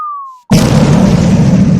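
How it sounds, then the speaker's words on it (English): A bomb explosion sound effect: a falling whistle drops in pitch for half a second, then a loud, sudden blast rumbles on at full strength. "Big bomb. Big bomb. Big bomb. Big bomb."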